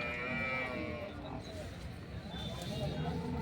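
A buffalo at the Sangareddy buffalo market lets out a long, loud, close moo that trails off. People talk nearby beneath it.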